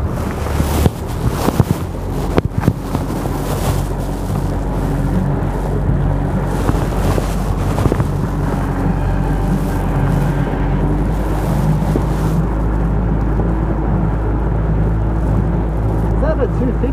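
A boat powered by a 150 Mercury Verado four-stroke outboard runs on the Hawkesbury River in New South Wales, its engine a low, quiet steady drone under wind buffeting, with people talking over it.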